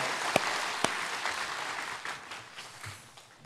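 Applause from a church congregation during a Sunday worship service, a steady wash of many hands clapping with a couple of sharp louder claps near the start, moderately loud and fading slightly toward the end.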